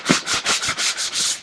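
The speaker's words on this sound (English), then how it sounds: "So I'm just sanding a little bit off the shiny surface." Sandpaper rubs back and forth over a shiny surface, seven steady rasping strokes in a regular rhythm, close and fairly loud, with no talking.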